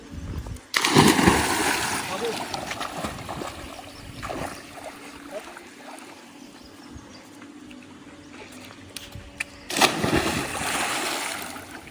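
People jump into a swimming pool, with two loud splashes, one near the start and one near the end, and lighter sloshing water between them. Voices can be heard around the pool.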